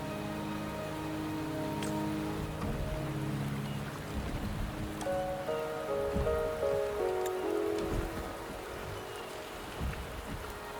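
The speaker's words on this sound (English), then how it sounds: "The rain is subsiding, and the sky will soon clear." Rain falls steadily in the Wuthering Waves video game, a continuous soft patter on surfaces throughout with gentle tonal music layered over it and no voices.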